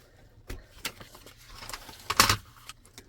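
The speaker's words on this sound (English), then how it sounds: "So we'll go ahead and use the trimmer here, and then here as well." A paper trimmer slices through a sheet in a quiet craft setting, a few soft scrapes and clicks building to one brief, sharp cutting swipe near the middle.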